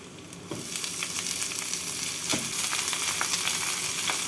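Rice frying with cashews and raisins in a hot pan sizzles and crackles steadily, with sharp scraping stirs breaking through the frying noise now and then.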